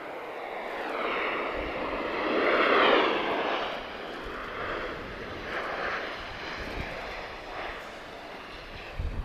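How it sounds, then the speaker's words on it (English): A Wizz Air jet arriving from Sofia at Lisbon Airport makes a loud, noisy approach: a whining engine roar with shifting tonal sweeps swells to a peak midway, then eases into a lower rumble, with no talk over it. "So Wiz always giving us a noisy arrival."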